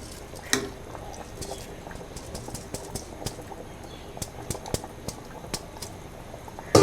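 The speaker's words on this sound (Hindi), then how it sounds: "ये पकना शुरू हो गया पानी" Water boiling in a cooking pot for mutton yakhni pulao, with soaked rice just added, gives a steady low bubbling hiss dotted with scattered sharp pops and ticks, fairly close, with no talking.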